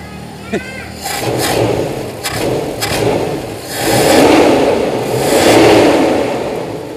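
A Toyota Kijang engine, fresh from carburetor and ignition service, revs up in several rising surges over a steady running note, loud and close, with a person talking over it.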